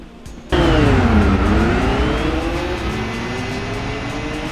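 Nissan Stagea race car engine in Gran Turismo 4 bursts in loud after a brief quiet lead-in, revving with a falling then climbing pitch sweep, steady and close, no talking.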